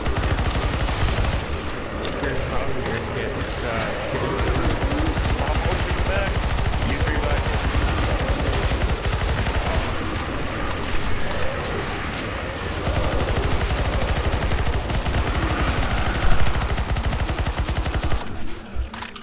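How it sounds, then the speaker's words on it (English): Sustained gunfire fills a Counter-Strike: Global Offensive zombie escape round on the apocalypse map, steady dense shooting running throughout with a brief louder burst near the end, game noise layered over it. "Keep shooting, keep shooting."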